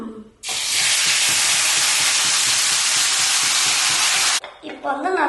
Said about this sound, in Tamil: பாருங்க 2 நிமிஷத்துக்கு வந்து இந்த மசாலா வந்து நல்லா ஃப்ரை பண்ணிக்கோங்க